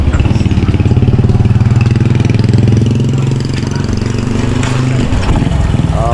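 A motorcycle engine runs steadily at idle after starting, a loud, even rumble that holds throughout, with people talking over it near the end.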